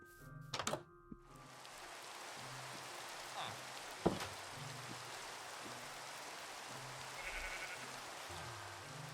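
Rain in a multiplayer survival server game makes a soft, steady hiss throughout, while sheep-like bleats and a few dull thunks break in.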